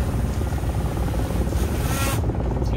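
A drone's rotors buzz steadily and loudly up close as it is caught by hand aboard a yacht off Phuket, with a brief rise in the noise near the end.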